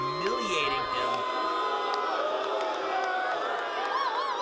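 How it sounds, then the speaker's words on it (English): Dense crowd at an outdoor pro wrestling show at Festival Vieux Saint-Jean, roaring, whooping and jeering continuously at a steady loud level, with shouted voices and whistles rising out of the din. "And this crowd absolutely tearing into Mitch Thompson."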